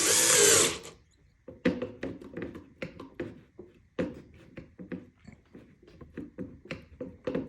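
Power drill driving a brass insert in short, repeated bursts and taps, close and fairly loud, after an initial brief rush of noise.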